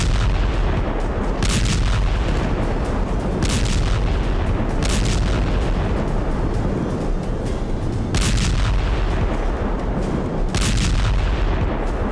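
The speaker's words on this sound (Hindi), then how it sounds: "इजराइल की सेना हमास के कमांडर्स के ठिकानों पर चुन चुन कर बम गिरा रही है।" Bombs exploding during Israeli strikes on Hamas commander sites, with a continuous loud, heavy roar and repeated deep booming blasts that rise above the din every few seconds.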